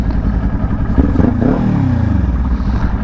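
A close, loud motorcycle engine roaring with a rumbling low growl and clattery mechanical texture, the pitch swelling briefly as it is revved.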